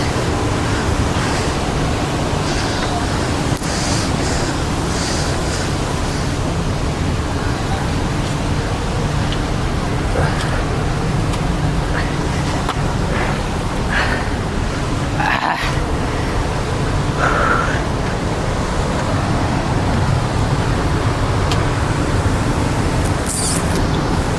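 Gokak waterfall pouring down from above, a loud, constant broadband roar of falling water with wind buffeting the microphone, steady for the whole stretch.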